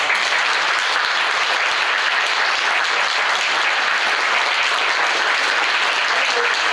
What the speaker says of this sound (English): So give Dave a round of applause